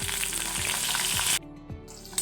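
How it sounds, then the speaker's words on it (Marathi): Brinjal sautéing in hot oil with garlic, ginger, curry leaves and asafoetida for a Khandeshi dal dish, a dense close sizzle with a few scraping stirs that briefly drops out before resuming. "आता हे वांगे आपण तेलामध्ये छान असं 2 मिनिटं परतवून घेऊ."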